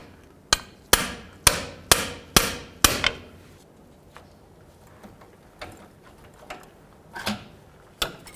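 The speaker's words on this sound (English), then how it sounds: "take a pry bar, put it up against it, and hammer on the pry bar" A hammer strikes a pry bar braced against a tie rod boot clamp on a 2001-07 Toyota Sequoia, six loud evenly spaced metallic blows, then fainter, irregular taps and knocks.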